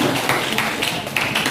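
Students in a classroom clap together, a dense patter of many hands with a few sharper accents, steady and fairly close throughout.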